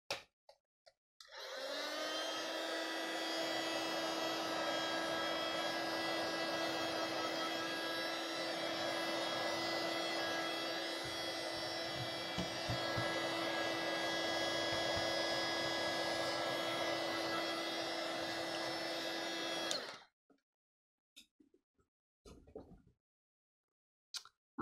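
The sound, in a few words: drying paint with a hair dryer in an art journal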